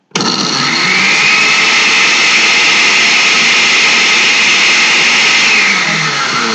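A blender runs steadily on aloe vera with a little added water, a loud continuous high whirring motor and blade churn that holds nearly unchanged from start to finish, with no voices.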